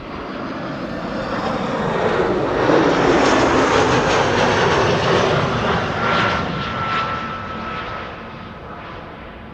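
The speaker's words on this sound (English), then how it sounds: "Welling flight 8365 arriving from Malaga. A320." A 14-year-old Airbus A320 airliner arriving at Amsterdam Schiphol from Malaga rumbles with a broad jet roar that builds, holds steady at its loudest through the middle, then tapers slightly as it passes.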